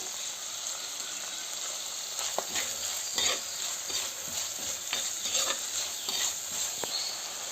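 Onion and tomato with salt sizzle in a pan while a spoon stirs and scrapes at intervals. A steady hiss runs underneath, close and moderately quiet.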